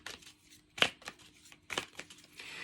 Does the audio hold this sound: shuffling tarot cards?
yes